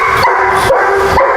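Excited dog barking and yipping in a series of close, loud barks, with whimpery overtones, during desensitization training of one dog in the presence of another big, energetic dog at a training ranch.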